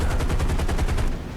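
Aircraft machine guns on a Grumman TBF-1c Avenger in War Thunder fire a fast, loud burst of about a dozen evenly spaced rounds in just over a second, close and alone.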